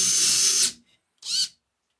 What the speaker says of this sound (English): I want to drill the holes for the wires as small as possible.